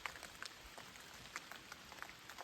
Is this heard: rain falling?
yes